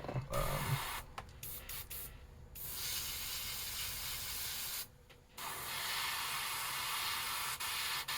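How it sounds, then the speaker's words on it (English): An air compressor runs while paint is airbrushed onto a custom crappie lure, giving a steady, close hiss that breaks off briefly a few times before resuming. "this is my compressor"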